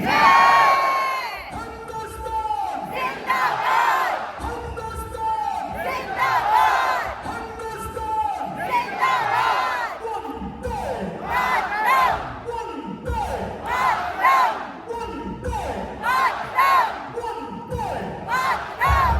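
A large crowd at the Amritsar border ceremony roars and chants in unison, rising in repeated loud surges of cheering and shouted calls with a lead voice between them, dense and close throughout.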